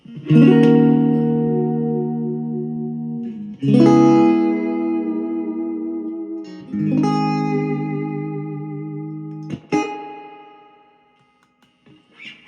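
Several loud strummed guitar chords through a 1965 Super amp cabinet with reverb set on 5, thick reverb making each one sustain and bloom into a lingering echo before fading out.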